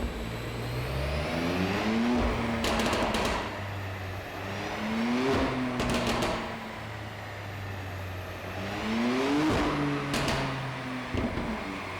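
A tuned BMW M2 Competition's S55B30 engine revs hard several times on a dyno, rising in pitch with each pull and dropping back between, loud and close with sharp pops.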